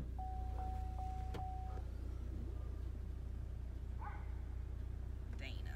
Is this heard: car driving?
yes